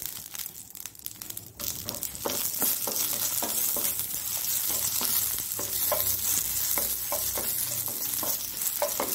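Curry leaves sizzle in hot oil for Mangalorean sardine pannopkari, a loud continuous spitting crackle with sharp popping bursts and occasional stirring scrapes, close up throughout.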